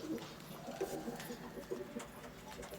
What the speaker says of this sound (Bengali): এই দেখতে পাচ্ছেন আমার এখানে বেশ কিছু ডায়মন্ড ডাব আছে